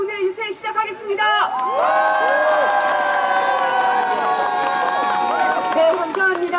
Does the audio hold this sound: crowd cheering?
yes